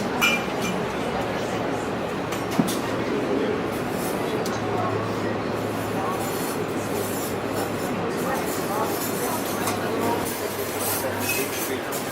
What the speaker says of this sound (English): Train coming down, so.